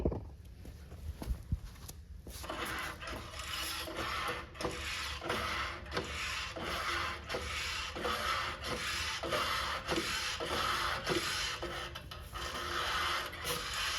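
Jack raising a Gravely zero-turn mower: a rhythmic series of rasping, squeaking strokes repeats steadily at close range, fairly quiet, with no talking.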